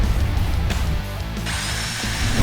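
A Promate cordless battery-powered angle grinder runs steadily at close range, a continuous loud whine with a brighter high-pitched rise partway through.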